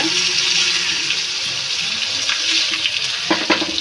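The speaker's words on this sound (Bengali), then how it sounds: "তার উপর অন্য পিঠটা ভেজে নেব" Chicken pieces sizzle in a frying pan as the second side is fried, a loud, steady, close hiss with a few small pops near the end.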